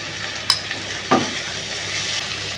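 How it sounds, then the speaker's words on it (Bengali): Sea mourala fish curry sizzling in a pan, a steady close hiss broken by two sharp scrapes of a spoon stirring against the metal. "এবার এটা আমি ভালো করে নেড়ে দেবো"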